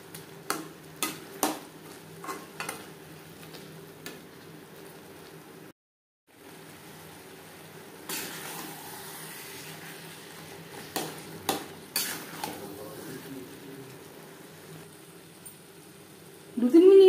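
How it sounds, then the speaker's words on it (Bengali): A spoon scrapes and taps in a pan as garam masala powder is stirred into chickpeas cooked with mutton fat, with quiet, irregular clinks over a faint sizzle and a short silent gap. "গরম মশলা পাউডার চানার সাথে বেশ ভালো করে মিক্সড করে দেব।"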